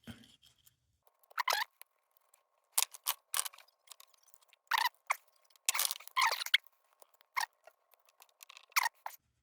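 Cheap garage-sale scissors cut along a seam during a 1947 Dietz Vesta lantern restoration, giving sharp, close snips in irregular bursts against near silence.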